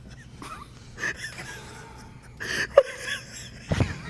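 Dogs whimper and whine softly nearby in a few brief, scattered high-pitched cries separated by quiet stretches, with faint sniffing and breathy noises between them.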